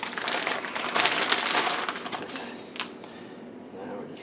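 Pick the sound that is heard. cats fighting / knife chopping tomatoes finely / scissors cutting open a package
scissors cutting open a package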